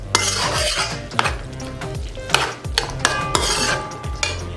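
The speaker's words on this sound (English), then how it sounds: "we're going to give this a good mix" A spoon repeatedly scrapes and clanks around a metal pot of pigeon peas and seasonings, producing rhythmic loud knocks and grinding scrapes over a low bubbling sizzle, close up with no talking.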